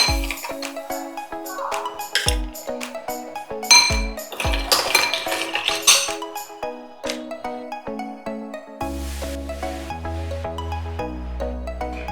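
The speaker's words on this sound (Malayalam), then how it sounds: "2 ഐസ് ക്യൂബും കൂടി ഇടാം." Ice cubes dropped into a glass of raw mango juice, a series of bright clinks and chinks against the glass, close and distinct, over light background music.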